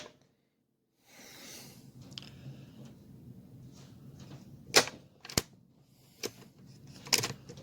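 Hatsan Flashpup .25 air rifle firing JSB Exact pellets at a 40-yard range: a few sharp, distinct cracks spaced over several seconds, alone above a faint outdoor background hum.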